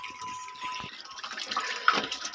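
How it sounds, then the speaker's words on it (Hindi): Spring water pouring steadily from a village pipeline tap in rural Uttarakhand, a continuous close splashing stream that runs without a break, with no voices over it. "ये पानी ऐसे ही गिरता रहेगा"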